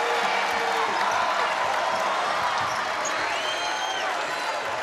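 A packed arena crowd at a Big Ten women's basketball game between Indiana and Michigan, with steady roaring applause and cheering filling the space, loud and unbroken throughout.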